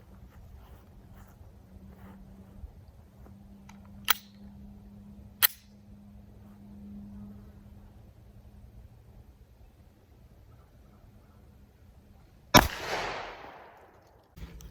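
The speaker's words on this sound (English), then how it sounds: "I'm gonna do one shot just to kind of see how this thing works." Smith & Wesson M&P 9mm pistol fired at a target about 5 yards away, heard as a single loud, sharp gunshot with a short fading tail, preceded by a few quiet clicks and low background hum.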